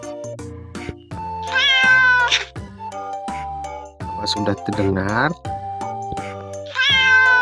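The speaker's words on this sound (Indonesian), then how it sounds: "Begini nih suara kucing." A cartoon cat meows twice in a children's animal-sounds animation, each meow a drawn-out, wavering cry, one early and one at the end, with a narrator's voice and bright background music running throughout.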